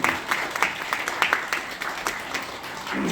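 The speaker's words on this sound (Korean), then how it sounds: "자큰 박수 부탁드리니다" Wedding guests applaud at a Korean wedding ceremony after the bride and groom bow, a steady patter of clapping from a hall full of people, moderately loud and fading slightly toward the end.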